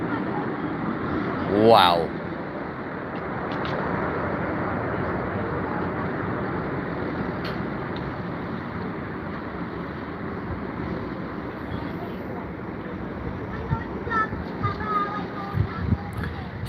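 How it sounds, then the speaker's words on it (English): Aircraft engines at London Heathrow roar in a broad, sustained rumble as a plane comes in on approach, with a brief exclaimed word early on and a few faint voices near the end. "Listen to the roar of those engines."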